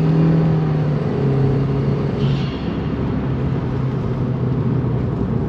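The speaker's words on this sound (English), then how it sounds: "The noise from the engine, from the air filter," Steady, loud engine drone from an Audi/VW 1.8T turbo petrol car accelerating on the road, heard from inside with a continuous low rumble and a brief whir of air-filter intake noise midway.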